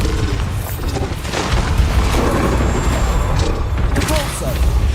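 Bombarda explosion spell cast in Hogwarts Legacy combat: a heavy booming blast over a dense, continuous wash of battle noise, with a shouted incantation and other combat effects all around.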